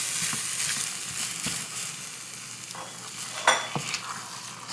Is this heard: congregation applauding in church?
no